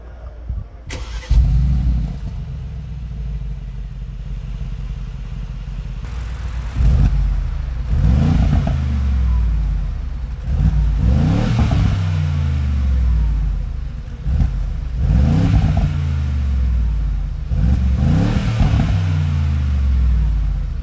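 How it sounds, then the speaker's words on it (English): A 2019 Mercedes-AMG G63 Edition 1 starts with a sharp bark, then its exhaust booms through several hard revs and accelerating pulls. The engine rises and falls in loud, close bursts over about twenty seconds, with no talking. "let's take a listen to the exhaust and experience how this thing drives"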